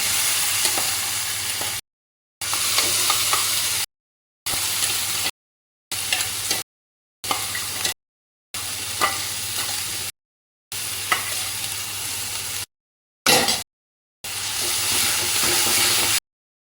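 Spice masala with garlic, cumin and coriander fries in a pan for a pumpkin pakora curry, sizzling steadily while it is stirred, in a series of short bursts separated by brief silences.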